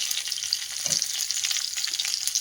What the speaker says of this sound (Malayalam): ചെറിയ ഉള്ളി അരിഞ്ഞത്, കരിവേപ്പിൻ്റെ ഇല, പച്ചമുളക് ഞാൻ ചേർത്ത് കൊടുക്കുന്നു.